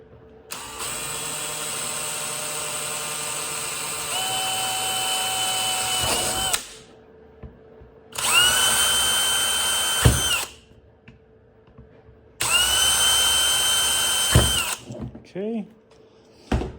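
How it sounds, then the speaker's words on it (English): A power drill bores holes with a slightly larger bit during a Jeep Renix electronic speedometer conversion, running in three sustained whining bursts of a few seconds each with short pauses between, loud and close. "I'm going to use a slightly larger drill bit"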